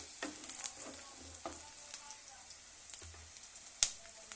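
Masala rice ingredients roast in a pan, with a faint, soft sizzle and scattered light clicks and taps from stirring, one sharper tick near the end.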